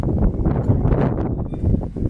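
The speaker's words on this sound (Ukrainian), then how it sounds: "вітер такий, що просто капець" Strong wind buffets the microphone in a loud, continuous rumbling roar with gusty surges.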